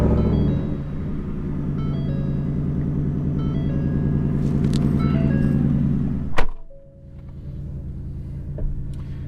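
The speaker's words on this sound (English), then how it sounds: "Let's fire this baby up." A Hennessey VelociRaptor V8 truck engine rumbles at a steady idle, then cuts off abruptly with a thunk, leaving a quieter background and a faint knock.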